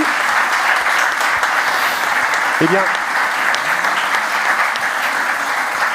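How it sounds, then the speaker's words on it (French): A studio audience on a television show applauds steadily with dense, even clapping that fills the whole stretch, while a voice briefly speaks over it. "avec les applaudissements du public"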